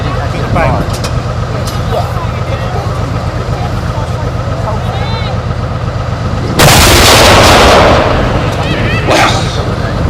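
A large gun fires a blank at a military show: a sudden, loud blast breaks over a background of idling engines and crowd chatter, then the noise slowly trails off, with people talking nearby before the shot.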